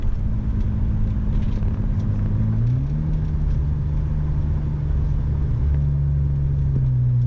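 Steady engine rumble from a four-door Nissan 350Z-style car accelerating, droning continuously with a rise in pitch midway as it pulls, heard alone without talk.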